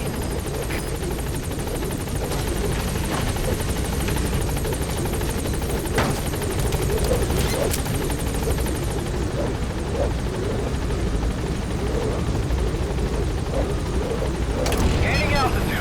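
A helicopter arrives at a landing zone in Metal Gear Solid V: The Phantom Pain, its steady rotor roar loud and continuous throughout, with occasional thumps and radio-style voice chatter under the engine noise.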